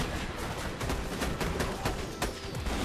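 Rapid cracking shots in the video game Borderlands 2, a dense run of loud reports in quick succession over constant battle noise from a creature slaughter dome arena.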